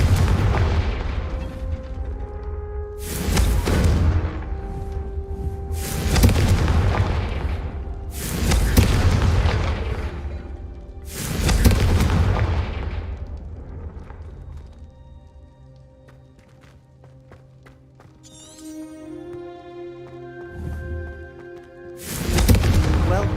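Booming fire-spell blasts from the Hogwarts Legacy video game, about five loud bursts in rough rhythm, then a quieter stretch of chiming magic before one more blast at the end.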